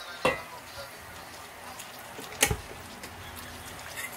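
Ginataang papaya simmering in a pot gives a faint, steady bubbling hiss, broken by two sharp utensil clicks against the pot.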